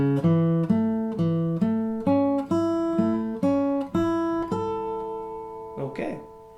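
Guitar arpeggio played ascending in groups of four notes, each step a clean rhythmic run of plucked notes rising in pitch, ending on a held note with a brief soft noise afterward.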